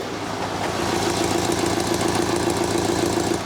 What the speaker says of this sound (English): the second thing we love about this car is the sport exhaust. It is active as well, and this is normal mode.